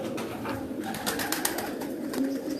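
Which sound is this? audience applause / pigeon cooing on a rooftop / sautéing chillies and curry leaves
pigeon cooing on a rooftop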